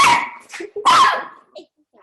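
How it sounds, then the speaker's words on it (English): A dog barks close by with a couple of loud, drawn-out barks that trail into a short whine, and a little noise follows. "You don't even need to bark."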